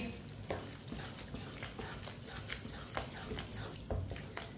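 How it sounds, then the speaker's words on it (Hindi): A spoon stirs bottle gourd sabzi in a pan after half a teaspoon of garam masala goes in, giving soft scraping strokes and light clinks over a low steady sizzle, fairly quiet and close. "आधा चम्मच गरम मसाला, मिक्स कर लेंगे।"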